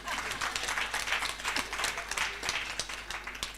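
Audience applause at a live-streamed event, moderately distant, with clearly separate claps in an uneven rhythm and faint crowd noise beneath.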